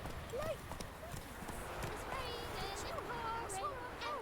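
Roach, a horse in The Witcher 3, trots with rhythmic clip-clop hoofbeats under continuous speech, with game music or ambience filling the background.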